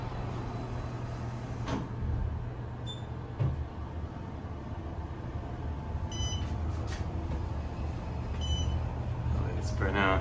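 Otis Gen2 MRL traction elevator climbing at a parking garage in Sunnyvale, California, a low steady motor hum under faint cab noise, with a few chime-like beeps and a door clunk partway through, and a voice speaking quietly.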